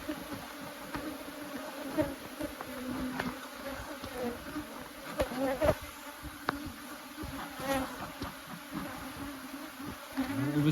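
Many honeybees buzz steadily around the hive during a honey harvest, a dense droning hum with individual insects whizzing closer now and then.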